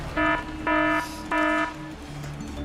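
A quiz buzzer goes off at a college quiz contest in three loud, steady electronic tones of equal length separated by short gaps, with faint background sound.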